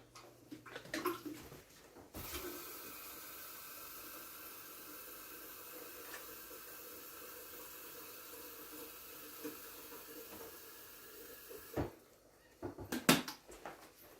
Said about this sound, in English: I'm gonna get some water to boil